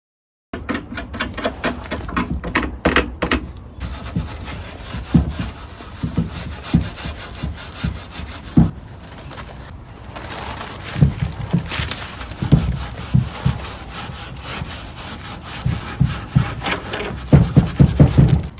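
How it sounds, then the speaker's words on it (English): Stripping the old finish off a wooden garage-sale dresser's spindled legs makes repeated scraping and rubbing strokes, close and irregular, with rasping bursts and short pauses between passes. "I need to strip down those legs"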